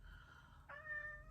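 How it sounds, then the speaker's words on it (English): A neighbour's cat meows for attention in two drawn-out calls, the second higher and stronger, fairly close over a low background hum. "next door's cat or neighbour's cat, and he's making lots of noises because he wants attention."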